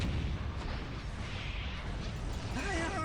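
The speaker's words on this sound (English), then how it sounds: "They need protection. Call for an airstrike." A called-in airstrike pounds the battlefield in the strategy game Dawn of War Dark Crusade, dense rumbling explosions and crackling bursts layered into a continuous roar, with a brief voice near the end.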